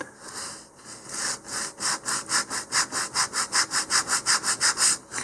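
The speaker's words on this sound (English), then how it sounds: "stiffen our sanding here just a little bit by putting a ruler behind it" Sandpaper rubs back and forth over a model rocket fin stiffened with a ruler behind it, close and clear, in a quickening run of rhythmic strokes that grow steady and louder, with no talking.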